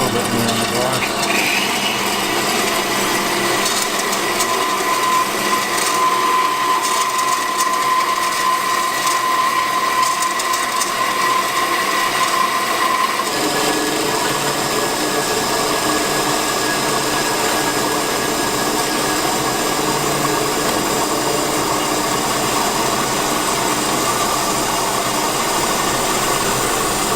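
Power tool cutting a pie cut in a stainless steel intake pipe for a 2JZ engine, a steady loud grinding rasp running unbroken and up close, its tone shifting partway through.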